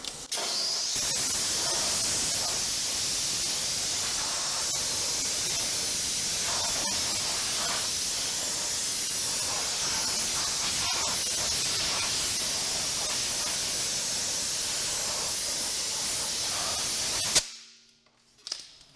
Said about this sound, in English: I'm using a Cyclone air tool that I usually use at work.